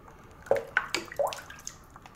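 A Motorola Talkabout MS350R two-way radio is spun around in water, giving a few short close splashes and drips in quick succession, then fading to quiet.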